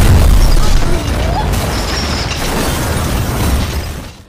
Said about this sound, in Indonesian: Kebahagiaan itu direnggut oleh sebuah ledakan bom.